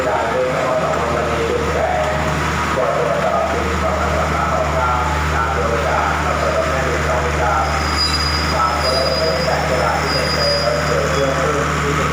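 Express train No. 51 bound for Chiang Mai rolls past on a Thai railway line, its air-conditioned second-class seating cars producing a loud, steady rumble with faint wheel squeal that lasts throughout.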